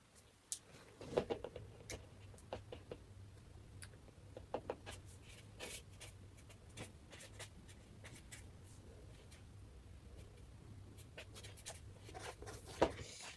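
A pen scratches out an answer on paper in a quiet room, giving soft, close scribbling strokes with small taps and pauses throughout, and no talking.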